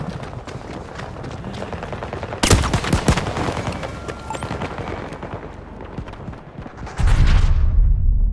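Gunfire rattles through a Battlefield 2042 firefight as rapid bursts of automatic shots crackle on and off, with a louder, sharper volley erupting midway and a heavy blast of sustained fire closing it out.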